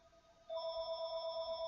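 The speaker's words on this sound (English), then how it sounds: "Sorry for the phone, guys." A phone ringtone rings out in steady tones, a quieter ring briefly then a louder sustained tone continuing to the end, with no talking.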